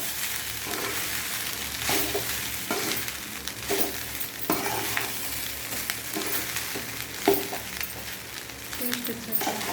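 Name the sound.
stirring carrot rice in a pan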